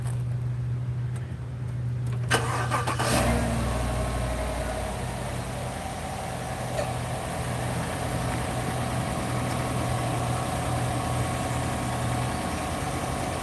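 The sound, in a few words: car engine starting and idling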